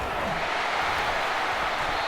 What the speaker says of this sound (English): This crowd, full throat, splitting the eardrums and letting him know it's going to be a long day.